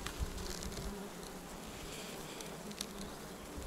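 Honey bees swarm at apiary hive frames with a steady, dense buzz that stays level and close throughout, with no voices.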